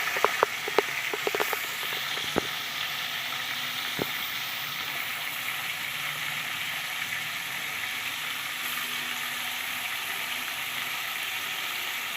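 Sea-fish heads fry crisp in hot oil with a steady, close sizzle and crackle, a few sharp clicks and pops near the start, no voices.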